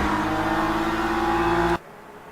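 Race cars in the Le Mans Ultimate sim at Fuji, a loud steady engine roar holding high revs as they come down the straight, cutting off abruptly near the end to leave quiet background.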